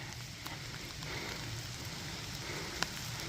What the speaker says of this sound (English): It's been raining pretty good for the last hour.